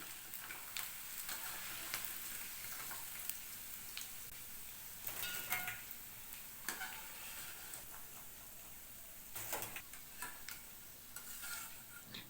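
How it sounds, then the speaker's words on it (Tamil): Food puffing up as it fries in oil in a pan over a medium flame gives a steady crackling sizzle, broken by brief louder clattery bursts near the middle and toward the end, with no talking. "இப்போது நல்லா பொரிஞ்சு எவ்வளோ பெருசாக ஆகுது பாருங்கள்"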